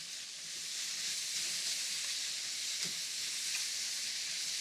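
Mushrooms searing in a very hot pan, a steady, quiet hiss of sizzling that runs unbroken throughout, with faint crackles and no voices.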